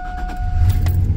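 A 2000 Chevy Silverado pickup with 173,000 miles gives a brief whine as its fuel pump primes, then the engine catches and rumbles low and close in a short burst.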